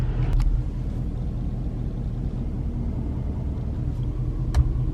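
A Powerstroke diesel truck drives along, with no air filter fitted, giving a steady low rumble and road roar from inside the cab and a couple of faint clicks, with no voices.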